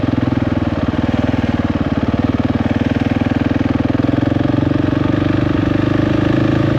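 A KTM 690 Enduro R single-cylinder engine runs steadily in low gear on a North Carolina mountain trail, loud and close with a fast, even throbbing pulse throughout and no talking.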